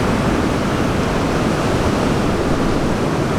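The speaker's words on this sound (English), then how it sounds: "Ooh, some big waves coming in." Big ocean surf breaks on a cold, windy day at J-Bay during a kneeboard championship, a loud continuous wash of crashing waves with no gaps.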